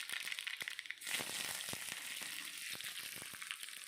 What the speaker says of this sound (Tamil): ஆயில் ஹீட் ஆனதுக்கப்புறம் கடுகு, கடுகு பொரிஞ்சோன்னா கருவேப்பிலை ஆட் பண்ணிக்கலாம்